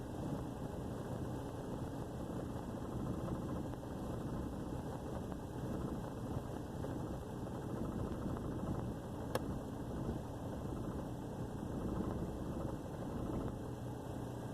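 Low idle of a troubled truck engine that keeps stalling, a continuous rumbling drone with slight surges and one brief click partway through, heard close with no talk.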